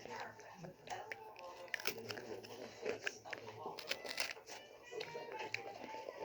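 Crisp biting and crunching into a brittle dalgona sugar cookie, several sharp cracks close to the microphone, with quiet talk and whispering mixed in between the bites.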